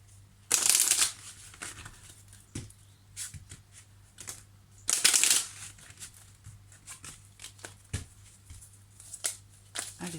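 Tarot cards shuffled by hand: two loud riffling bursts several seconds apart, with softer flicks and taps of card handling between them, close and without talking.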